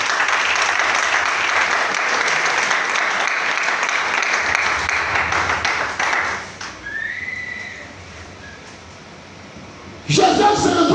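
Church congregation applauding and cheering, a dense sustained wash of clapping with a whistle cutting through, fading to a quieter stretch before a fresh burst of applause returns at the end.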